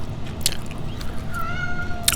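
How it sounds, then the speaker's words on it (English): An indoor cat gives a single drawn-out meow near the middle, rising and falling, against a quiet room with soft rustling and faint clicks. "Oh, there's Kitty. She likes Kess too"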